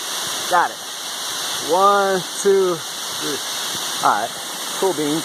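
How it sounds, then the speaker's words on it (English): A waterfall in a jungle setting roars as a steady broadband wash of falling water, with a voice talking over it in short bursts. "Oh damn, waterfall."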